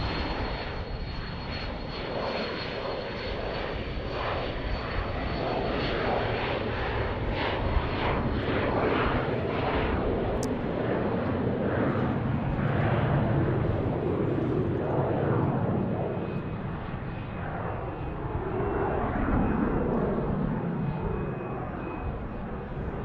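A fixed-wing airplane on the southern runway at Dallas Love Field airport makes a loud, steady engine roar that holds for over twenty seconds, close and dominant, with no voices over it.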